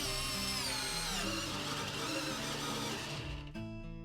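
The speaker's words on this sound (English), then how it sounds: "So this drill's kind of underpowered" A cordless power drill runs at full power with its clutch setting bypassed, giving a loud steady whine that holds for several seconds, then drops in pitch and eases off near the end.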